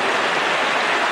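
Heavy rain pours steadily in a city, giving a dense, even hiss with no breaks and no voices.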